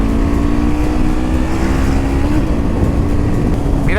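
A new 2021 Honda CBR 650 R motorcycle with about 300 km on it runs its engine at a steady, loud, close-up drone, with no clear revving.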